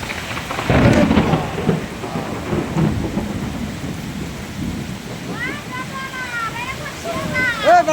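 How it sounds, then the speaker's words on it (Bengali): Thunder rumbles over heavy rain pouring down during a storm in Nadia, with nearby voices speaking and faint whistling-like tones near the end, the downpour constant and loud throughout. "যেরকম বৃষ্টি হলো সেরকম বজ্র।"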